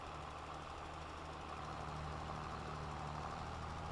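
A tractor engine in Farming Simulator 22 drones steadily at mid pitch, a constant rough hum with no pauses, quiet and unbroken throughout.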